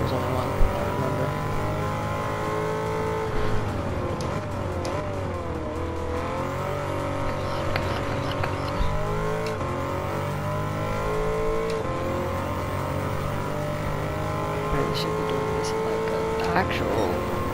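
Lamborghini Urus super SUV engine racing in Gran Turismo 7, a continuous revving drone that rises and falls through gear shifts, steady and fairly loud from start to finish.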